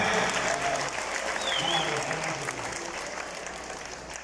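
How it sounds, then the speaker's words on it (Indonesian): A crowd applauds the PKB Saudi Arabia chairman at a volunteers' evening event in Makkah. The clapping is loud and sustained, slowly easing toward the end, and a voice speaks faintly underneath. "Tepuk tangan untuk Ketua PKB Saudi Arabia"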